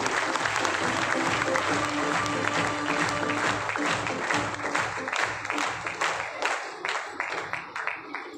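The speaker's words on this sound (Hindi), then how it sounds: "एक बार जोरदार ताली" Audience applause at a business achievers' event rolls on as dense continuous clapping, then thins into scattered, separate claps toward the end, moderately loud with a little crowd noise.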